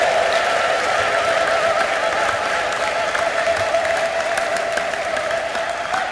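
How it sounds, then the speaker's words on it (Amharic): A church congregation claps steadily and ululates in praise during a sermon, a dense, loud, continuous wall of applause with a high trilling tone running through it from start to finish. "እስቲ የልልታ ጭብጨባ ያለው ሰው ለጌታ ክብር"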